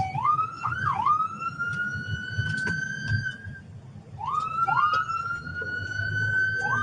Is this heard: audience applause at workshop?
no